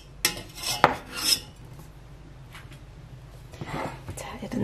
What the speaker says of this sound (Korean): 자, 이제 불을 끄고 이것만 이렇게 건져내줍니다